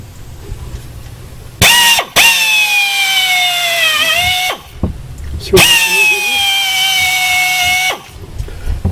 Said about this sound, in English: What I'm going to do is I'll drill this hole.